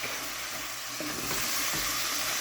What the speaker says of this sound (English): So now I'm just going to start throwing in the greens.